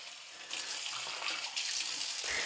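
Tap water gushing over a part from an Omega Cold Press 365 juicer as it is rinsed, starting abruptly and running as a loud, steady splashing hiss with slight shifts as the part moves under the stream.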